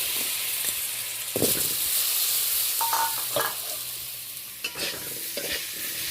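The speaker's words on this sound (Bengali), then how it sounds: "এবার ডুমুডুমু করে আলু কেটে রেখেছিলাম, আলুটা ভেজে নেব।" Diced potatoes fry in a pan with a steady, close sizzle and hiss, broken by a few scraping stirs and clacks of a utensil, with no talking.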